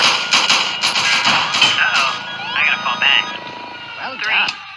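A rocket lifts off in the Henry Stickman video game with a roaring, whooshing rise and rhythmic thumps, heard under excited talk and game effects.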